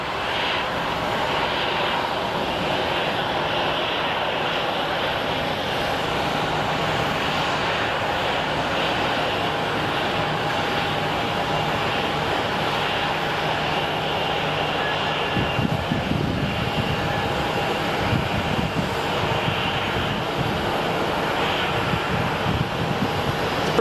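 A Mesa Airlines CRJ regional jet at Phoenix Sky Harbor gives off a steady, moderately distant engine drone that carries on evenly throughout.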